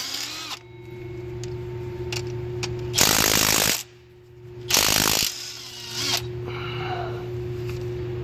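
A Milwaukee power tool spinning out 10 mm bolts on a 6.7 Powerstroke engine, two loud bursts of whirring ratchet action separated by pauses, with faint clicks and a steady background hum.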